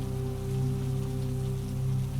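Steady rain falls continuously as a calm bedtime-story backdrop, an even, close wash of patter with a low hum underneath and no voices.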